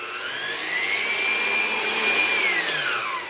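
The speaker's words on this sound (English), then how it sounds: "So I'm going to beat the eggs just for a moment." Eggs for a Genoese sponge are beaten with a whisk, giving a steady, close whirring whose pitch rises, holds and then falls over about three seconds.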